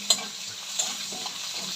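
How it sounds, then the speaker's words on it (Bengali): Whole fennel, black cumin and chopped garlic being stirred in hot oil in a pan, a soft steady sizzle with light scraping strokes and a couple of sharp clinks from the utensil. "এবার আমি একটু নাড়াচাড়া করে নেব।"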